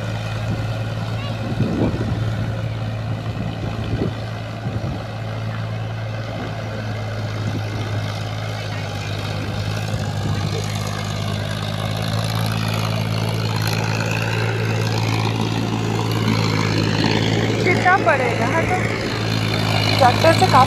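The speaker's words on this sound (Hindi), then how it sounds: "तो यहाँ खेत को जोता जा रहा है ट्रैक्टर से।" A tractor ploughs a rain-flooded paddy field ahead of rice planting. Its engine drones steadily and evenly throughout, with a voice talking over it.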